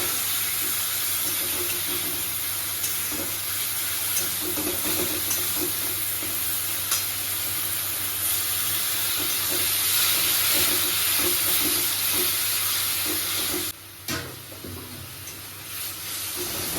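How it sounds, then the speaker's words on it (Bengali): Water poured into a pan of frying spices (chili powder, turmeric, cumin, coriander and salt) for a curry, giving a steady, loud, close sizzle and hiss that drops off abruptly near the end. "জল দিয়ে দেব"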